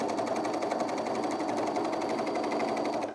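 A sewing machine runs a steady, continuous stitch through skort fabric, a close, even mechanical whir with a fast regular pulse that holds without pause until it stops at the very end.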